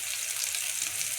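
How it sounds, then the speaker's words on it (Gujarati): Spices crackling and sizzling in hot oil during tempering for a Gujarati kantola sabzi, a steady close hiss with fine popping and no talk. "હાલો આપણે એને કકડાવા દઈએ"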